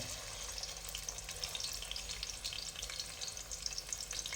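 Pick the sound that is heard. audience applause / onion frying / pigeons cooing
onion frying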